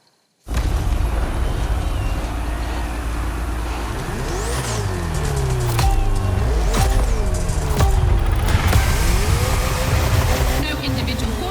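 A Ferrari race car engine in The Crew Motorfest video game, loud and close, revs hard and climbs through repeated rising whines and gear shifts, backed by a steady roar and a continuous rumble.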